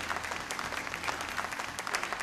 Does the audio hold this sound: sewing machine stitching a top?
no